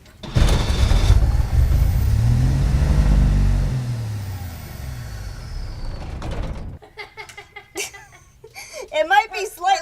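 A Willys engine, freshly refueled with gas, cranks and catches, running loud and rough up close for several seconds before cutting out; people then talk and chuckle nearby.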